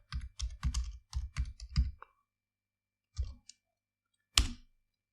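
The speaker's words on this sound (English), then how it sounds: "I will type local app data" Keys clatter on a computer keyboard in quick bursts of typing, close and clear, then pause before a couple of isolated later strokes, with no talking over them.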